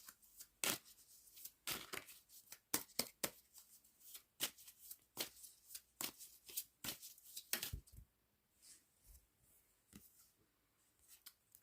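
Oracle cards shuffled by hand in a steady run of crisp riffling flicks and slaps, close and fairly quiet, settling into softer brushing near the end.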